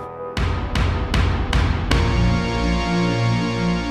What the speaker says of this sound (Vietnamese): Trong bài hát này thì mình dùng một cái yếu tố chính đó là tiếng trống cổ động.